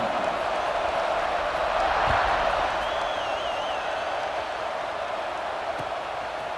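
Steady roar of a stadium crowd in EA Sports College Football 26 before a kickoff, a dense, continuous wash of cheering that swells slightly midway and holds at a loud, even level throughout.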